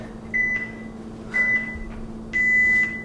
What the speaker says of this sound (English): That is the buzzer for round 2.